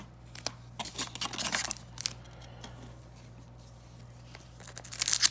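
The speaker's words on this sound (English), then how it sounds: "I'm just going to go ahead and rip the packs" Trading card packs from a Cryptozoic Ghostbusters box being ripped open, close, with repeated quick tearing and crinkling of foil wrappers over a steady low hum.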